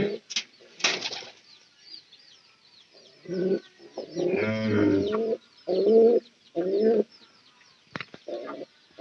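Pigeons coo nearby in several rounded, throaty bursts separated by pauses, with a soft flutter of wings at the start.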